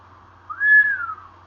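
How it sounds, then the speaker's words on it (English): A person whistles a single rising-then-falling tone, indoors during a read-aloud story, a clear sustained note lasting under a second over a faint low hum. "Peter whistled."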